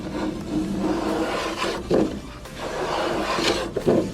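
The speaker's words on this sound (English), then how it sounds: "I'm going to take my hand plane now. I've got a block plane that I will be using." Rough rasping strokes of a block plane shaving wood, several passes in a row, close and fairly loud, with no voices, while building a wooden paddleboard.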